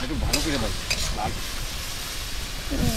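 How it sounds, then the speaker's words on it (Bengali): Food sizzles in a pan at an outdoor family picnic, a moderate hiss running under nearby voices talking. "তো ভাজা হচ্ছে"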